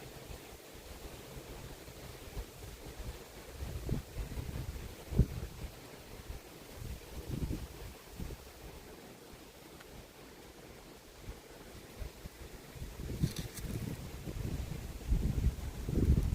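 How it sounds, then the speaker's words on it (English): Wind gusting outdoors beside open water on a fall day in East Tennessee, a steady low rumble with buffeting bursts against the microphone and faint lapping water underneath. "This wind though today might be keeping them at bay."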